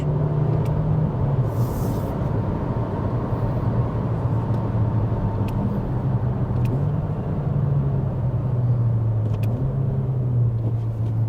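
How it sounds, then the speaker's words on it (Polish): A car with an automated manual gearbox drives steadily with a continuous engine drone and road rumble, the pitch dipping and rising as it shifts slowly up through the gears; no voices. "Tylko ta zmiana biegów w górę trochę trwa,"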